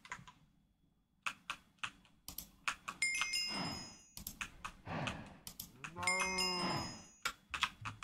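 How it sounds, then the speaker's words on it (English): Cows moo in a Minecraft Bedrock game, with two long lowing calls among bursts of close, clicky keyboard typing and short gaps of quiet. "Then you just put some cows in there."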